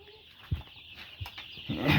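Soft, high peeps from eight-day-old chicks come and go over faint handling noise and a few dull bumps, growing busier toward the end.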